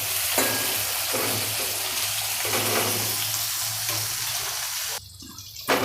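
Gunda and raw mango sambharo sizzle steadily in hot oil in a pan, a loud continuous frying hiss with faint stirring, cutting off sharply near the end.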